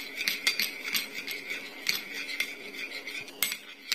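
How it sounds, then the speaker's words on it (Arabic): Metal spoon stirring a mixture of honey and oil in a glass, with quick repeated clinks and scraping against the glass in an uneven rhythm, close and clear with no talking. "كتخلطيها مزيان حتى كتندمج هكذا"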